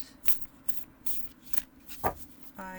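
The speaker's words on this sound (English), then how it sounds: "You can do the rifle shuffle, the overhand." Cards being shuffled by hand, with several short riffling bursts and soft rubbing sounds, close up and fairly quiet, ending in a quick fluttering riffle.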